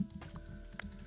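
Typing on a computer keyboard while entering a Notion command, with a few quick, light key clicks close by over a low steady background hum.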